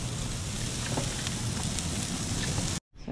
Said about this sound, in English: So out here, it's raining.